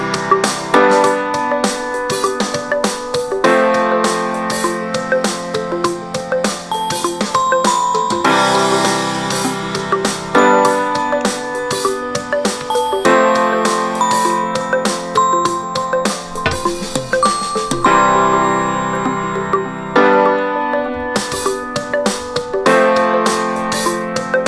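A GarageBand song plays a bright bell melody over a drummer track. The music is loud and continuous throughout, with a busy, sustained texture and no talking.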